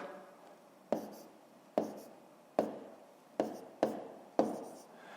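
A pen writes numbers on paper in a Ukrainian fifth-grade maths exercise, giving six short, crisp strokes at roughly regular intervals, close and quiet, with no talking.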